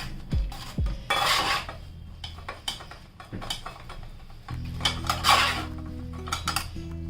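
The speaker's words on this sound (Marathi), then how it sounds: "सर्व असं दाबून दाबून व्यवस्थित प्रेस करायचं, म्हणजे पुदिना आणि हिरवी मिरचीचा अर्क आहे ना सगळं पाण्यामध्ये येईल." Mint and green chili pulp is pressed through a metal strainer into a bowl for Mumbai-style pani puri water, giving scattered clinks and scrapes of utensil on metal at close range, with no talking.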